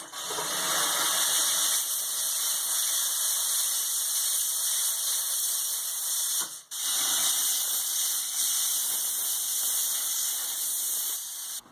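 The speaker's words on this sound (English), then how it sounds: "if you have a steamer, steam everything off. This will get any extra polishing residue off." A jewelry steamer blows off polishing residue in a steady, loud high-pitched hiss, running continuously with one brief break partway through.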